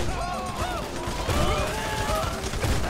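Heavy gunfire fills a chaotic firefight in GTA 5 Online, dense overlapping shots and bursts that stay loud throughout, with voices shouting over the shooting.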